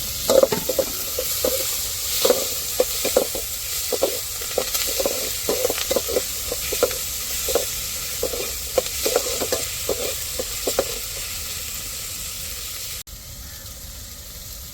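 Tomatoes, chillies and shallots frying in oil for a chicken curry, with a steady sizzle and hiss broken by regular scrapes and clinks of stirring, close and clear with no talk.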